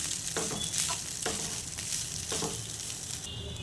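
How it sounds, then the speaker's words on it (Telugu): Cooked rice is stirred into green chilli and coriander in a hot pan, with scraping spoon strokes every second or so over a continuous sizzle of frying. "రైస్ వేసుకున్న తర్వాత వీటన్నిటిని బాగా మిక్స్ చేసుకోవాలి."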